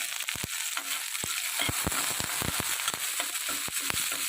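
Onions and dried chilli sauté in a pan for elephant yam masiyal, a dense crackling sizzle peppered with quick sharp pops and spatters throughout, close and steady, with no talking.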